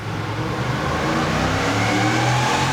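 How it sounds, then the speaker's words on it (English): A 2021 Ford F-150 pickup engine pulling hard on a dyno roller in 4th gear, the revs climbing steadily with a rising, loud, close mechanical drone. "we did our dyno runs in 4th gear so we could rev the engine all the way out"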